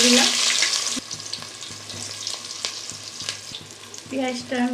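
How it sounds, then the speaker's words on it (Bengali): About 200 grams of onions fry in white oil and ghee for biryani, giving a steady close sizzle broken by scraping stirs and faint clinks of the spoon against the pan. "পেঁয়াজটা আমি বেরেস্তা করে ভাজা করব"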